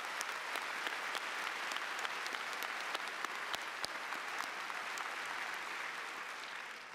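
Applause for honor society students at a high school graduation fills a large hall, a dense, even clapping from a big crowd heard somewhat distantly, slowly easing toward the end.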